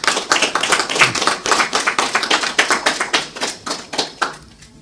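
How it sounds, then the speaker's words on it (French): Applause from an audience at a Paris book presentation, a dense run of individual claps that fades near the end, with no talk over it. "que je vous demande d'applaudir très fort"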